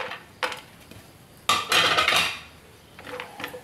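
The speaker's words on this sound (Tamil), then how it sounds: "நம்ம கிறிஸ்மஸ் பழம், முந்திரி பருப்பை நம்ம லேசாக நெய்யில் வதக்கி எடுத்துக்கிடலாம்." A spoon scrapes and clinks against a metal pan while Christmas fruit and cashews are stirred in ghee for beetroot halwa, in a few short bursts of clatter with quiet gaps between.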